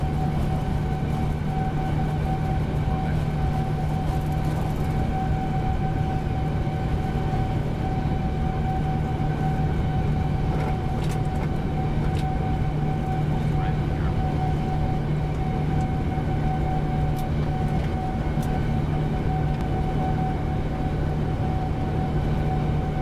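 Boeing 787-9 jet engines at takeoff power in MSFS 2024, a steady, loud roar with a sustained whine and a deep hum that holds evenly the whole time, no voices.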